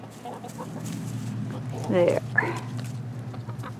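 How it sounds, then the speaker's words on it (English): A backyard chicken gives a brief cluck close by while someone talks over steady background noise. "The chicken don't want to come."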